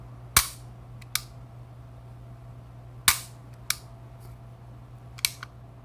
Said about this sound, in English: Double action pull.